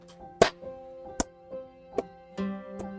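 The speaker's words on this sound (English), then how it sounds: "I don't know if you can hear it, but I'm" Hands clap five times, sharp and spaced unevenly, over a soft, sustained tonal background during an Outer Wilds game session.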